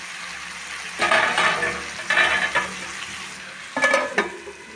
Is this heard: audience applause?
no